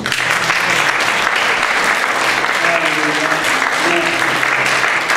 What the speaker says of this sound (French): Acclamons notre grand Dieu.